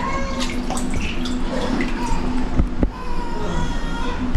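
Fish being washed in water in a rural-style kitchen ahead of frying, with steady splashing and running water, scattered drips and clatter up close, and faint talk in the background.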